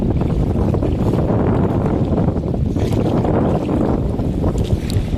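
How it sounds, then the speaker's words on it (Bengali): Strong gusty wind over a Sundarbans river during a storm, heard from a small fishing boat as a loud continuous roar and buffeting that fills the whole scene. "একটু হাওয়া হচ্ছে আর মানে একটু নিম্নচাপ আছে"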